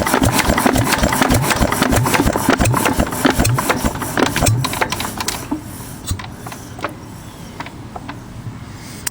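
A 6 HP Witte diesel engine running steadily after start-up, its loud, rhythmic knocking beats close and continuous, slowing slightly toward the end.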